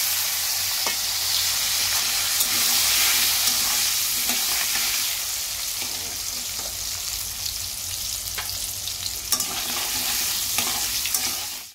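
Carrot pieces fry in hot oil with turmeric and salt, giving a steady close hiss and crackle for the whole stretch, broken by occasional light scrapes and taps of a spatula, with no talk.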